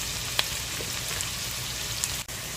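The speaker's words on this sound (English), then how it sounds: "So we're going to saute this for maybe 2 to 3 minutes. I want to get the shallots nice and softened" Shallots sautéing in a pan for béarnaise sauce, a steady, close, even sizzle hissing continuously with a couple of faint clicks.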